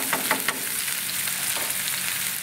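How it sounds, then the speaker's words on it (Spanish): Mushrooms and onion fry in olive oil with a bright, even hiss of sizzling, and a few quick stirring scrapes come through at the start before the sizzle carries on alone. "Bueno, champiñón, aceite de oliva, vamos mezclando."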